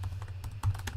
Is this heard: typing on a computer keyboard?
yes